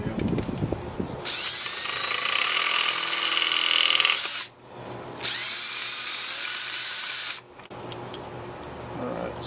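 A power drill runs a 3/8 inch bit to widen a hole in the rear door of a Ford Crown Victoria police interceptor: two long, loud, whining bursts separated by a short pause, each cutting off abruptly.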